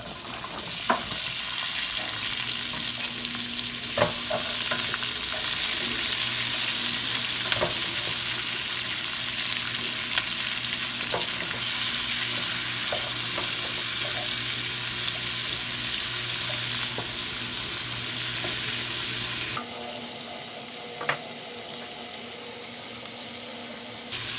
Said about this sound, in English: Use the same bacon grease to, for these vegetables.